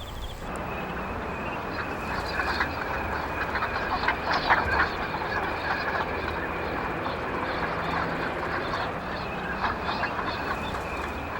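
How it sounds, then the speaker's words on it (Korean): Winter migratory ducks gathered in a flock on the Yangjaecheon stream, with scattered quacks rising over a steady wash of flowing water and ambient noise, moderately distant and continuous. "겨울 철새들이 무리지어 날아들었다."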